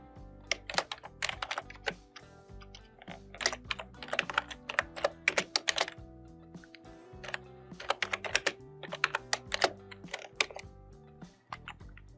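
Quick, irregular typing on a computer keyboard while entering data into a spreadsheet, with crisp close key clicks in bursts and short pauses, no talking.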